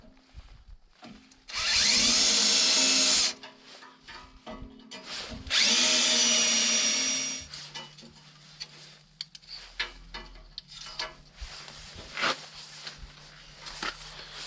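A power drill bores holes for mounting LED lights on a tractor in two loud whining bursts of about two seconds each, followed by clicks, handling knocks and quieter rattling as the work continues.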